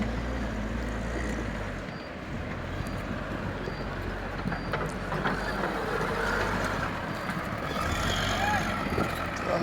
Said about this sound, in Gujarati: આપણું ટ્રેક્ટર ભરાય છે.